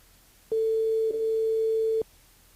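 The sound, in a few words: telephone call ringing unanswered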